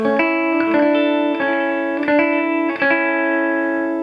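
Sustained electric guitar chords through a Crate GT200 amp's spring reverb ring with a wet, splashy reverb tail, several strums in steady succession.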